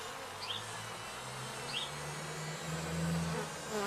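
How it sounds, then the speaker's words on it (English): Honey bees swarm around an open beehive, producing a continuous buzzing drone with individual bees passing close by, quiet and steady with no voices. "See all the bees just swarming all over the place."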